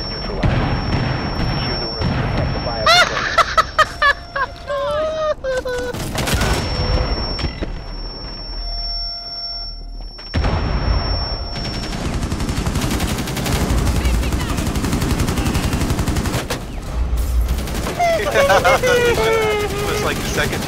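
Frag grenades and gunfire in the Rainbow Six Siege video game, Border map team deathmatch, with bursts of rapid gunshots, a heavy blast and rumbling, mixed with players talking over the action.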